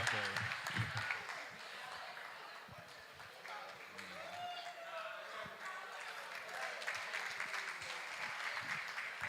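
An audience at an e-learning week event in Obuasi applauds with steady, moderately loud clapping throughout, while a voice talks over it near the start and later.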